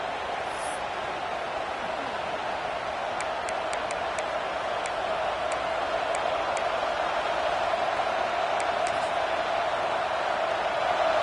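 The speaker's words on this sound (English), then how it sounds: "This crowd trying to make life miserable for this offense." Steady, broad roar of a large stadium crowd in the video game NCAA 26, loud and continuous, with faint scattered ticks above it and no clear talking.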